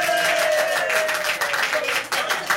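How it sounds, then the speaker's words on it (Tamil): An audience claps at a Tamil comedy poetry recital, a steady wash of many hands applauding together, fairly loud and close, with a faint tone running beneath. "இந்த கவிஞனின் கற்பனைக்கு நான் கைதட்டுகிறேன்"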